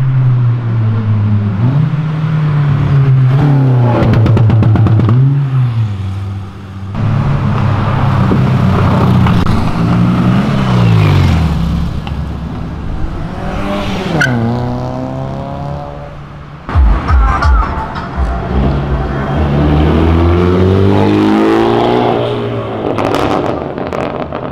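A Volkswagen up! TSI small car accelerates hard and revs repeatedly in front of police, its engine rising and dropping in pitch through several loud pulls and gear changes, close and dominant throughout.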